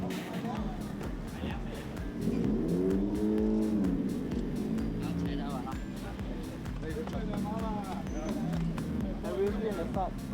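A TCR touring race car at Sepang revs its engine hard at the race start, the rising and falling engine note running steadily beneath continuous close-up talk.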